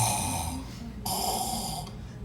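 A voice imitates heavy snoring: two loud, rasping breaths, the second coming after a short pause, up close and with no words spoken.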